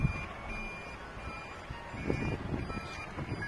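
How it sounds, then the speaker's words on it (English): A Toyota Prius backing up, its reversing alert sounding as a series of faint, evenly spaced tonal beeps over steady outdoor background noise. "Why do Prius make that beeping sound like they big old trucks though?"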